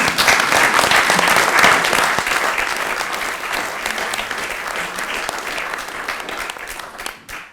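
Audience applause at a literary reading event with concert organizers, a loud burst of clapping from a hall crowd that gradually thins and fades toward the end.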